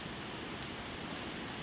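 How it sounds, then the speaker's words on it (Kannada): Heavy rain pours steadily over Sarjapur, a dense, even hiss that stays constant and fairly soft throughout, with no voices or other sounds breaking through. "ಸೊ ನಮ್ಮೂರಲ್ಲಿ ಸರ್ಜಾಪುರದಲ್ಲಿ ಸಿಕ್ಕಾಪಟ್ಟೆ ಮಳೆ ಬರ್ತಾಯಿದೆ"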